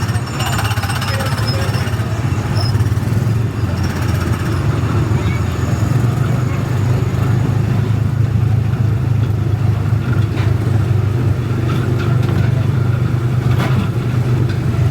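A Disney Speedway car running along a low, bumpy track has a loud, close, rattling engine drone that stays constant throughout, with muffled voices beneath it.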